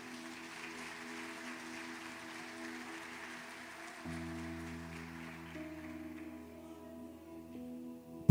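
A church congregation applauds in a steady broadband wash for several seconds, fading toward the end as sustained organ or keyboard chords carry on underneath.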